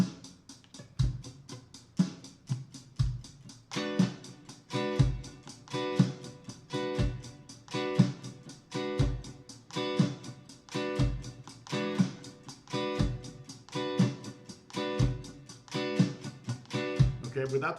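Steady groove of guitar strumming with muted dead-note scratches landing just ahead of each downbeat, a regular pulsing rhythm heard close and alone at moderate level, without drums.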